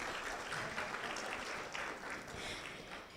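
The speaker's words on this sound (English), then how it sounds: "Another round of applause for our very front row table." Applause for the front-row table at a City of San Antonio business gathering, a steady wash of clapping from the room held at even strength, faint, with no voices over it.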